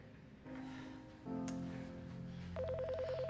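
An electronic phone tone rings out: a held synthetic pitch that steps higher midway, then a rapidly warbling ring pattern near the end, all clear and close with no voices.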